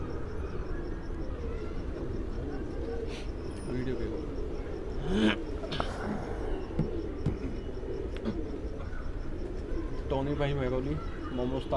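Pigeons in a rooftop loft at dusk coo softly among ambient outdoor noise and distant traffic, with someone talking over them throughout.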